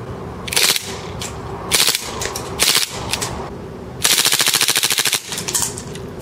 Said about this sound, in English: Now let's go full auto, which is this little switch right there.